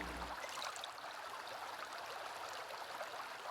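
Water pouring and gurgling steadily as a cooking pot is filled from a body of water in the survival game Sons of the Forest, a soft, constant trickling rush with no talking.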